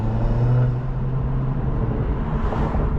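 Honda Civic Si driving on the road, a steady close engine drone with road and tire rumble throughout, fairly loud and unbroken.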